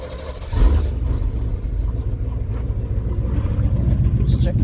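Vehicle engine fitted with a freshly repaired TBI fuel injection setup, starting with a sharp rise and then running at a steady low rumble, with a voice talking over it.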